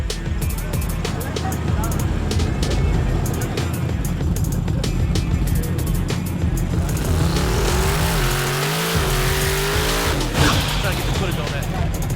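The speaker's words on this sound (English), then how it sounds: "Next up is Swanko and his badass Camaro, old school, versus Chris with his Midnight Mustang" An old-school Camaro and a Midnight Mustang street racing, engines revving and roaring at close range with a crowd's voices talking over the noise throughout.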